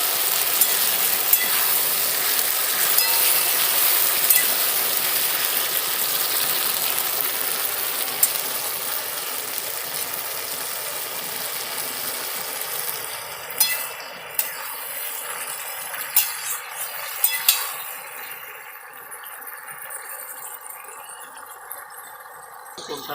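Green chilies sizzle in a pan with tomato paste, a loud steady frying hiss that later settles quieter, broken by sharp clicks and scrapes of stirring.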